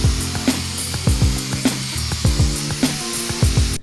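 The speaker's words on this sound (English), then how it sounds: "I find using the sanding piece here for the grinder is a bit easier." An angle grinder fitted with a sanding disc works a half cabin boat's windscreen frame, sounding in loud, repeated rasping strokes about every half second, close and alone with no talk.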